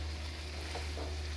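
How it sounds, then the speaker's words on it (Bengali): Chickpeas with coriander fry and get stirred in a pan during a spiced chickpea bhuna, a faint steady sizzle with a couple of soft scraping stirs, heard alone. "এটা প্রায় ভাজা ভাজা হয়ে এসেছে।"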